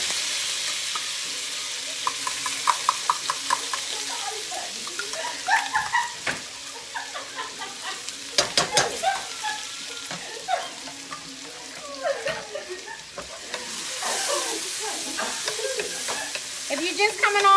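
Minced garlic frying in a paella pan for Spanish paella, a continuous sizzle broken by repeated scraping stirs and clinks of the utensil against the pan, close and fairly loud throughout.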